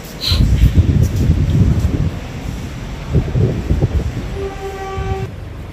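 A train rumbles past close by at an international airport railway station in Indonesia amid gusty wind noise, and a steady horn sounds for about a second near the end.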